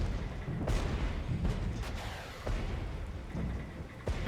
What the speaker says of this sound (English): Artillery strike is firing now.